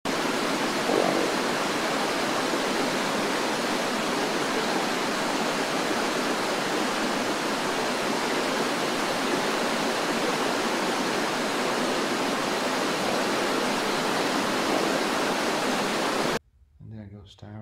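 Fast-flowing stream water rushes steadily and loudly at close range, a dense unbroken wash that holds for most of the clip before cutting off abruptly near the end.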